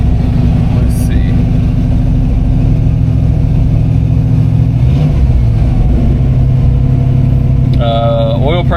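A 1967 Mustang's engine running steadily while driving, a continuous low rumble with a brief rising note near the end, close and loud throughout.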